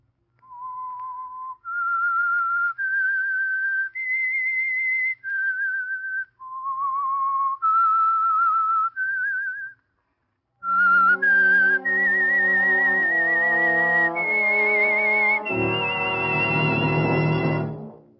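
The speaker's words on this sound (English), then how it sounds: "That whistle is your signal for the Signal Oil program, The Whistler." A whistled theme melody for the radio mystery program The Whistler, a lone clear whistle rising and falling through several phrases, then a brief pause before the tune returns backed by a full orchestra swelling loudly to the end.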